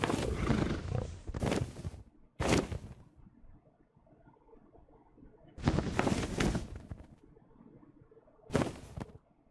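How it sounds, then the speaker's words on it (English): Horses in a video game let out loud, close whinnies and neighs in repeated bursts separated by quieter gaps. "There are horses up there stuck in the mountain."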